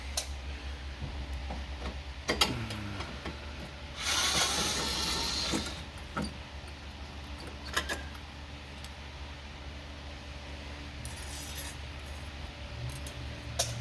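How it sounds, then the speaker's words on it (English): A small screwdriver turns a screw during headlight replacement on a Lincoln Continental or Mercury, giving quiet ratcheting clicks and ticks, a brief louder rasping burst, then a few more isolated clicks against a faint background hum. "it's kind of a cool little screwdriver"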